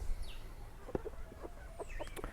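Chickens clucking on a tropical permaculture homestead, a series of short soft clucks in an irregular rhythm, faint and close, over quiet outdoor background.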